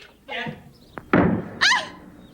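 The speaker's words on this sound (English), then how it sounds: "Close the door, you creep!" A door slams shut with a heavy thunk inside a fairy-tale palace room, one loud impact landing right after shouting voices and a short scuffle, followed by more raised talk.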